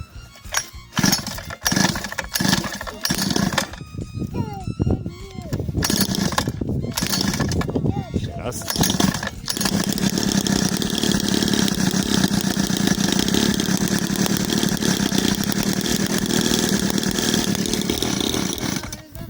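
A small petrol engine is cranked through several rough, sputtering start attempts before it catches and runs at a loud, steady, buzzing pitch close by. Brief voices can be heard early on.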